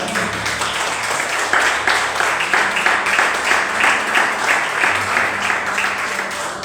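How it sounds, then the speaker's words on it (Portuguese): A congregation claps together in worship during a Lord's Supper service at a church, the rhythmic, sustained clapping of many hands filling the room at an even level, with low musical or vocal tones faintly underneath. "as palmas adoram ao Senhor"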